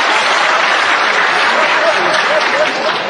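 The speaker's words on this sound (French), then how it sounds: "Cette constatation applaudie comme vous l'entendez" Steady, dense applause from a lecture audience in a hall, loud and continuous throughout with no talking over it.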